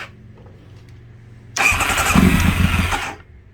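A Kawasaki ZX9R motorcycle engine, fed from a small gas tank, catches after a quiet moment and runs loud and rough for about a second and a half before cutting out.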